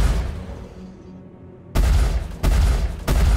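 Ship guns firing in the space game Star Citizen, heard as three loud, sudden bursts of booming fire, each holding briefly before cutting off, following a quieter stretch of humming engine drone.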